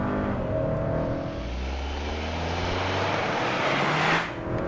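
Hyundai Santa Cruz pickup with dual-clutch transmission launching at full throttle, engine note rising steadily in pitch through the gear as it pulls hard, heard from inside the cabin, loud and continuous with no talk.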